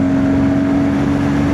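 A motorbike roars past at speed with a steady, loud engine drone throughout, close and unbroken.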